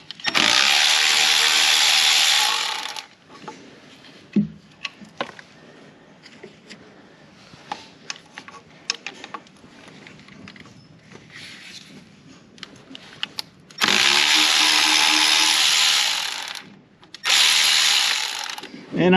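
Ratchet wrench clicking as 9/16 bolts come off the lower radiator hose flange on a 1941 Caterpillar D4 crawler tractor, with long loud buzzy ratcheting bursts at the start and end and scattered metallic clicks and taps between.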